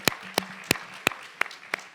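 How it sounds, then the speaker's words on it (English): Slow, evenly spaced hand claps, about six sharp near claps in two seconds, at a 2016 reentry conference keynote, with quiet room tone between them. "She deserves a round of applause."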